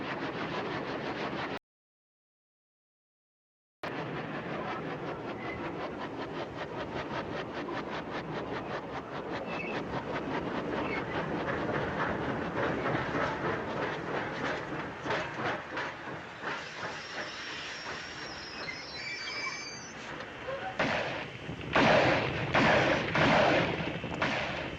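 A steam train runs on rails in a 1939 western during a holdup, with a steady hissing chug and rhythmic rattling of cars, briefly cut to silence, then growing louder with sharper bursts toward the end.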